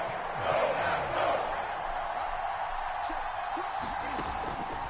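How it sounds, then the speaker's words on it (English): A stadium crowd in the video game Madden 22 roars steadily ahead of a big third down, a continuous rumble of cheers that swells briefly, with no talk over it. "The crowd getting into it as we come up on a big 3rd down."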